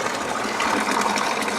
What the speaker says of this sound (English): We have light and we have water.